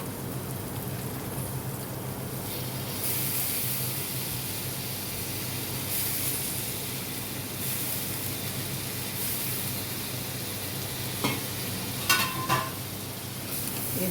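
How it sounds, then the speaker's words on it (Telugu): Curry leaves fry in hot oil in a pan with a continuous crackling sizzle like rain. It swells slightly now and then, and a few sharp scraping knocks come near the end with no voices. "ఇప్పుడు దీంట్లోనే కరివేపాకు వేసుకోవాలండి."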